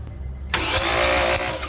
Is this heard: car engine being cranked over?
yes